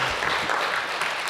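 A church congregation claps in encouragement at a Wednesday prayer service, a dense, steady wash of many hands filling the room for about a second, with no voices over it.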